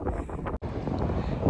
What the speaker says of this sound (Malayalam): ഭയങ്കര കാറ്റാട്ടോ